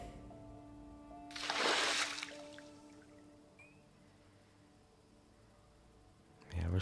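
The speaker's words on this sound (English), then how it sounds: "we're slowly getting all the water out of those other two rain collectors" In the survival video game Project Zomboid, water empties from a rain collector barrel as a short splashing gush near the start, followed by quiet ambient game sound and a brief clatter at the end.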